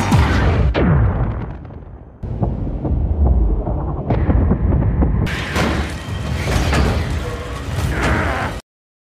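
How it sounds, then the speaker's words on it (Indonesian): A huge explosion in an animated Transformers film as Optimus destroys the Transwarp Key: loud, sustained rumbling booms that swell in repeated waves, then cut off abruptly at the end, with no talking. "Optimus segera menghancurkan Transwarp Key yang mana menciptakan ledakan dahsyat"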